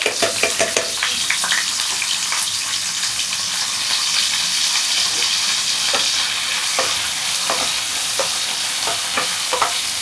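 Chopped onions with ginger-garlic paste fry in a pan for home-style chilli chicken, a loud continuous sizzle broken by repeated spatula scrapes and stirring clatter.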